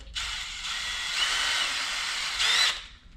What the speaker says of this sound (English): I made my own little mixture with my drill